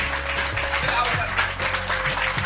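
An audience applauds a yoga guru in a dense, steady wash of clapping, with a voice speaking over it throughout.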